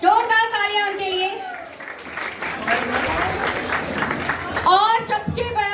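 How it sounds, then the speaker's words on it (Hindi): An audience at a school foundation day celebration breaks into loud, sustained applause for team members. A speaker's amplified voice comes before and after the clapping, which swells in the middle. "जोरदार तालियां उनके लिए"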